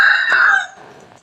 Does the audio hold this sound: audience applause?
no